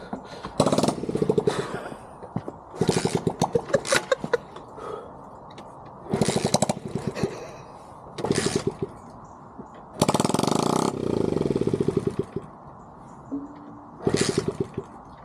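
A Dax motorcycle engine with its exhaust removed fires in sharp, raw, rattling bursts, close and loud, starting and cutting out repeatedly with stretches of near silence between revs.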